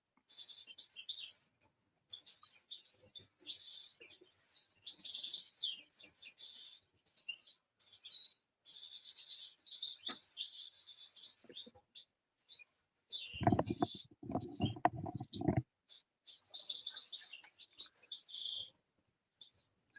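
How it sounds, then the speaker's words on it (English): A canary sings in the background with bright, rapid trills and chirps in repeated bursts, broken once by a brief low rumble. "a bird in the background that, we don't have here. Sounds like a canary."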